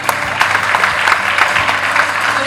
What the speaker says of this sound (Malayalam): അർജന്റീന ഫാൻസ് കാട്ടൂർക്കടവിന് നല്ലൊരു കൈയടി കൊടുക്കാം.